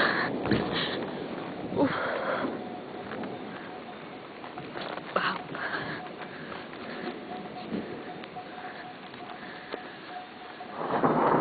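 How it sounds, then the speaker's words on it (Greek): Steady heavy rain hisses throughout at Ancient Gortyna in Arcadia, Greece, with low rumbling swells of thunder rising and fading, the loudest near the start and end. "η βροχή έχει δυναμώσει και οι βροντές είναι πολύ δυνατές"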